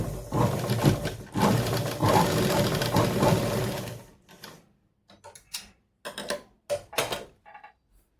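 A sewing machine stitches both sides of a blouse neckline in a loud, fast, rattling run for about four seconds, then a few short bursts of stitching follow with pauses between them, close by.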